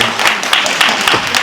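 An audience applauds at an Angolan diaspora entrepreneurs' event in Paris, giving a brief burst of dense, steady clapping that fills the room at close range.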